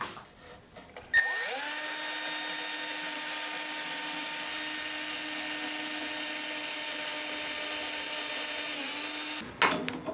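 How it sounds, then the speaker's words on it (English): A power drill drives screws into the sides of a small wooden planter box, one long steady whirring run lasting about eight seconds, close and loud, with brief handling noise before and after. "And now screwing all 4 sides in."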